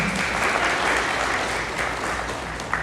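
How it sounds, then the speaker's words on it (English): An audience at a graduation ceremony applauds a top-performing student, giving a dense, even burst of clapping that fills the short stretch at steady loudness. "So a round of applause for Candice."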